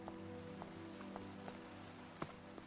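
Rain in the video game Minecraft falls as a soft, steady patter of drops over a low hum, faint and continuous with a few slightly louder drips.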